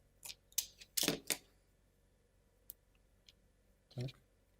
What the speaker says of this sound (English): cut the rubber band first